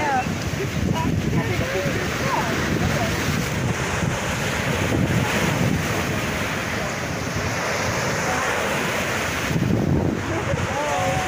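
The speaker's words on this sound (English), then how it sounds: "Listen to those waves, sound just like the ocean." Waves washing on open water at the Congo border, a continuous rushing surf with heavy wind buffeting the microphone, and voices talking faintly in the background.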